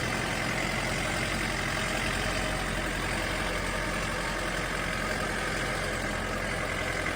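A tractor engine idles with a steady, continuous rumble, unchanging for several seconds, loud and close, with a broad noisy hum and no voices.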